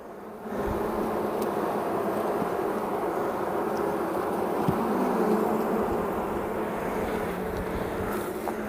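A dense, steady hum of many honeybees buzzing close by at an open hive, continuous and droning without pause.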